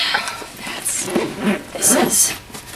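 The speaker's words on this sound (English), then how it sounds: "this is the moment that everything zips" A packed travel bag is being zipped shut in several short, rasping zipper pulls, interspersed with quieter rustling of the bag's contents.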